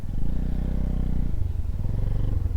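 An off-road motorbike ride on a rough rural track, the engine a loud close rumbling thrum with a steady low pulse that shifts character midway as the bike works over uneven ground.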